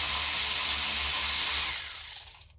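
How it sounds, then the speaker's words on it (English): A Power Torque 3/8-inch drive cordless ratchet runs with a steady high motor whine that fades and stops near the end, heard alone. "that's my review on the Power Torque cordless ratchet"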